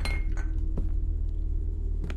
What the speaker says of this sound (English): I keep hearing like bottles, like glass bottles or something.